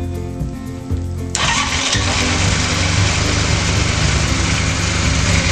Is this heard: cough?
no